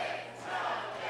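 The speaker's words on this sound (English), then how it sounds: "And listen to the crowd behind the champion, Jay." A wrestling arena crowd roars for the champion during a match, a dense, steady wash of cheering voices filling the space at moderate loudness.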